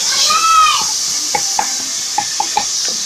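Chopped onion sizzles in a little oil inside a pressure cooker while a tomato sauce is being made, giving a steady close hiss with a few soft clicks and faint low tones underneath.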